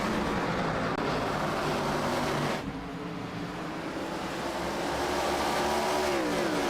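Race car engines roar in a continuous pack drone during green flag racing at Bristol Motor Speedway in iRacing, with one brief dip before the engine noise swells back, loud and close.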